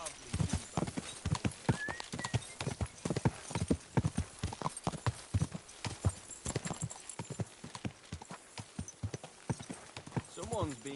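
Horse hooves clip-clopping in the video game Kingdom Come: Deliverance II, a brisk, steady run of close hoofbeats throughout, with a brief whinny near the end.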